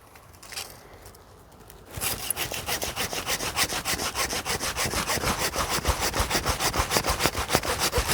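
A hand saw cuts through a pine tree branch. After a short quiet start come steady rhythmic back-and-forth rasping strokes, close and fairly loud, with no talking.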